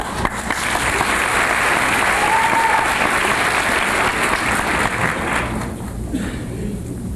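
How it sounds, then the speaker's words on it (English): Steady, full audience applause fills a hall at a 1985 beauty pageant, continuous dense clapping from many hands, loud and sustained without a break. "Don't ever suppress your applause."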